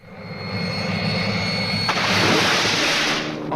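A helicopter engine sound effect in a French Tintin audio drama swells in as a steady droning whine, growing louder and brighter partway through and holding near and full with no voices.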